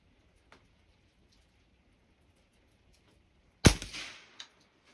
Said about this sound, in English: I'm shooting at the bottom left.